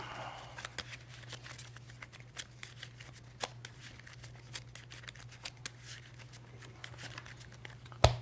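Pokemon trading cards are shuffled by hand in a quiet room, making a string of soft, quick riffling clicks and papery flutters that end in a louder snap of the deck.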